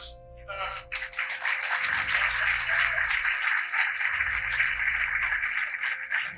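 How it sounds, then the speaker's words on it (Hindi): An audience claps for a guest speaker at a university event, a dense sustained wash of applause that swells after a brief pause and continues steadily at close range, with low rumbling underneath. "एक बार फिर जोरदार तालियां हो जाए हमारे अतिथि विशेष के लिए"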